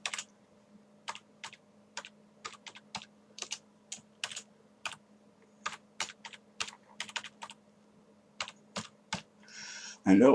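Keys clatter on a computer keyboard in short bursts and separate taps across the whole stretch, fairly close and clear, with a faint steady hum underneath.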